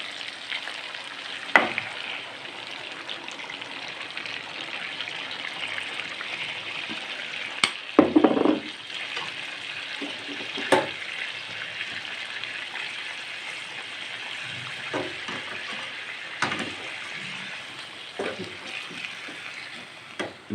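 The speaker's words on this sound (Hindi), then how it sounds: "दही को अच्छी तरीके से इसमें हम पकाएंगे" Yogurt sizzles and fries steadily in a chicken karahi pan, a continuous crackling hiss with occasional scraping stirs and clinks, close and even throughout, without talk.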